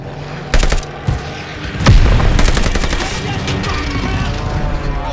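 Gunfire aimed at an aircraft in the video game Call of Duty: Vanguard, with loud sharp shots and a heavy boom that fade into a sustained rumbling fusillade.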